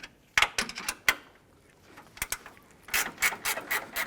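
A ratchet snugs down a bolt on a 2012-2017 Toyota Camry hydraulic engine mount, giving close, crisp clicking bursts, some single and some in quick runs, with short pauses between them and no voices.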